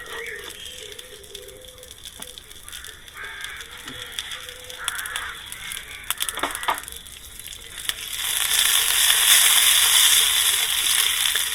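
Bacon frying in a camp frying pan, a steady broadband sizzle that swells louder and denser in the final few seconds, with scattered small clicks and crackles throughout and no speech.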